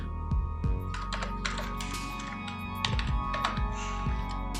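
Clicky taps and thunks from a computer keyboard while typing an office rent entry into BUSY accounting software, several quick irregular keystrokes close by with faint room tone and no talk.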